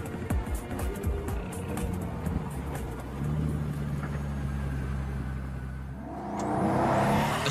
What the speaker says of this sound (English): As the Huayra rockets off down the main straight, the flaps are kept down.